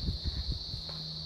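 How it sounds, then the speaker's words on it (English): Cicadas drone in a steady, high continuous buzz that holds unbroken throughout, with soft low rustling or footsteps beneath. "No, they're not locusts. Cicadas."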